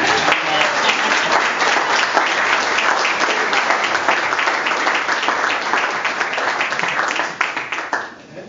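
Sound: audience applause for an economist at a debate

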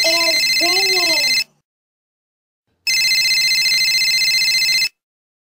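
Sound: telephone ringing

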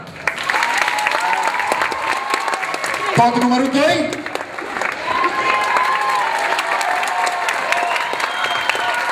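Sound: audience applause for applause meter

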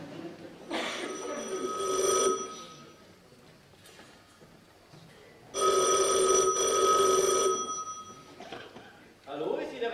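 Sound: telephone ringing

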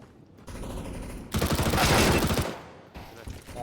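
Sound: shotgun fire in video game CS:GO Danger Zone

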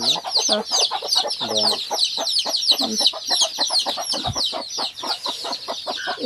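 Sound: hen with chicks clucking

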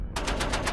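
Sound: Madsen machine gun firing automatically

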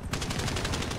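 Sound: gunfire in video game GTA V Online

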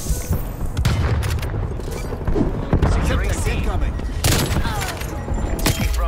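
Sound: gunshots in video game Black Ops Cold War

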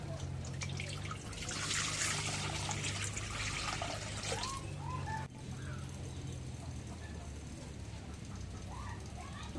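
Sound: water being poured into cooking pot

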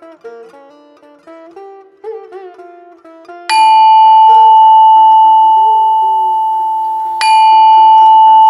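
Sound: antique bells for a pooja mandir ringing

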